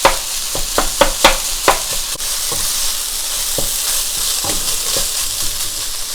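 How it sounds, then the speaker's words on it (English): Ground beef browning in a pan for a noodle stir fry, a loud steady sizzle with a quick series of spatula taps and scrapes at the start, no talking. "let it just sit and brown again"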